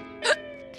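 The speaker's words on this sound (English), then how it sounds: "Oh, these hiccups are ruining me day!" A single short, sharp hiccup from a cartoon character, close and clear, rising briefly above a faint background hum.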